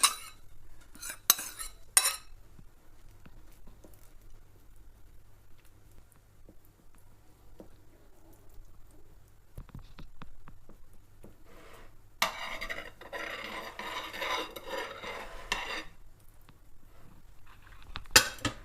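A metal utensil clinks and scrapes against a plate while layers of liver cake are spread, with scattered light taps, a few sharp clinks early on and a busier scraping stretch later, quiet and close.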